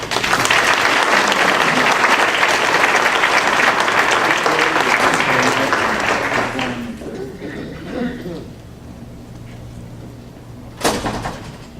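An audience at a Rotary Club meeting applauds to welcome a young eighth-grade violinist, loud sustained clapping for about seven seconds that then fades into faint shuffling and a brief clack.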